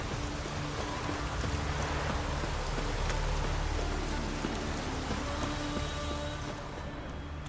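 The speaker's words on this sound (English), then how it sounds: "Maybe we needed a spot of rain." Continuous steady rainfall pours down with a dense, even hiss, joined by a low rumbling hum, with no voices, in the video game The Witcher 3: Wild Hunt.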